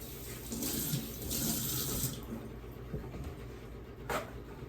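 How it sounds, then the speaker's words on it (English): Hands are washed under a running kitchen tap, with water pouring steadily and close throughout and brief surges as the hands move through the stream. "I have to keep washing my hands because I get cheese on my hands and butter on my hands"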